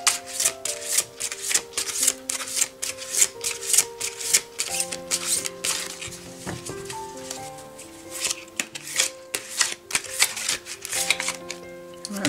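Guardian angel tarot cards are shuffled by hand, a rapid, steady run of soft riffling and flicking strokes heard up close over gentle background music with sustained tones.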